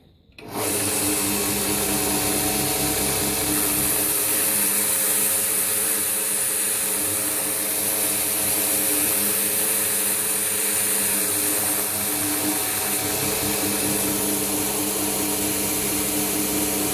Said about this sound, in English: Now we're going to go to the horizontal grinder and we're going to put in the profile again of the guard.